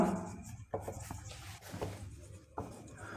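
Chalk or marker writing on a board during a lecture on scalar and vector quantities, a series of short scratchy strokes and taps with brief pauses between them, close and moderately loud, with no talking.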